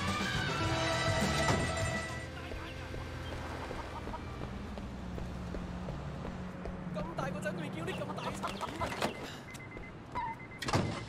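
Chickens cluck in a van in the Sleeping Dogs video game, fowl calls over a low vehicle hum and game sounds, with someone talking throughout.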